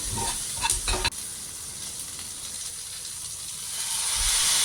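Chopped capsicum sizzles and hisses in a hot pan while being stirred, with a few scraping clatters early on, then a steady loud frying hiss that continues on its own.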